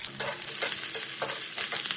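Oil sizzles and crackles as tempering spices and curry leaves are stirred in a pan, with repeated scraping strokes over the frying hiss.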